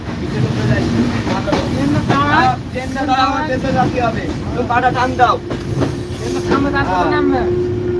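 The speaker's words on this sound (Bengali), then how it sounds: "আমরা এখন আছি মিরপুর রেলওয়ে স্টেশন" A train rumbles steadily at Mirpur railway station, with a low hum running throughout and voices talking over it.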